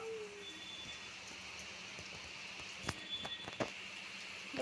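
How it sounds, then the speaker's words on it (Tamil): Heavy rain in Dharmapuri hisses steadily and evenly, with a few louder knocks and splats near the end, and no talking. "என்னமா மழை வருது பாருங்க"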